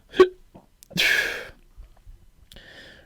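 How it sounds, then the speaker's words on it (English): A few sharp hiccups after shots of whiskey, close to the microphone, spaced apart with a breathy sigh between them. "Took a few shots of whiskey. Now I got the hiccups."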